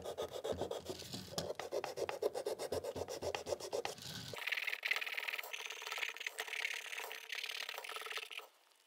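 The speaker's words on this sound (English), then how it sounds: "And when I sand, just like before, get to the sides and in the middle." A Dremel tool sands the inside of a wood carving, giving a steady, close rasping rub that changes tone partway through and runs continuously until it stops near the end.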